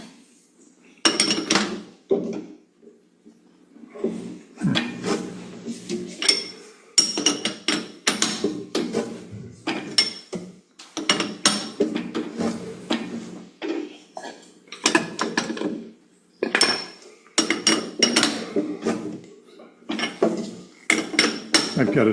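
Metal clanks and ratcheting clicks while a cutter is fitted and tightened on a wood turning lathe, irregular close bursts of tapping and scraping with short gaps between them.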